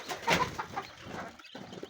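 Egg-laying quail in a flock give a brief run of faint cooing and clucking calls, closely spaced over under two seconds.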